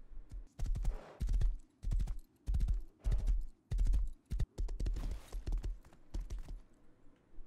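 Horse hooves clip-clop steadily on the ground in the Rust video game, a brisk, evenly spaced rhythm of loud, close hoof strikes that continues without pause.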